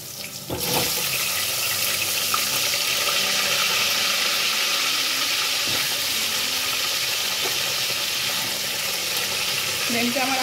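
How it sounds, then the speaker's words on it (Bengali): Potatoes frying in hot oil in a pan over a high flame for a Bengali chicken and potato curry, a steady, close hiss and sizzle that runs throughout without a break. "ফ্লেমটা আমার এখন হাই করে দিয়েছি। আর আলুগুলো আমি ভাজবো।"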